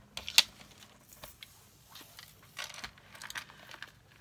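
Scissors snip through paper for a handmade Christmas tag, a quiet, close series of small irregular cuts and rustles with one sharp click early on, in a still room with no talking.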